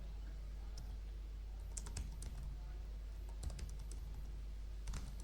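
Keys tapped on a computer keyboard while writing brute-force code, sparse clusters of light clicks spaced a second or so apart over a steady low hum, fairly quiet.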